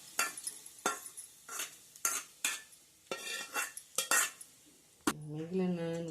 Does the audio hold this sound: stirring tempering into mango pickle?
yes